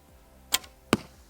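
Two arrows loosed from a bow at a family tipi camp in the Lofoten Islands, each a sharp, brief twang-and-thud, the second louder and closer, with quiet outdoor air between them.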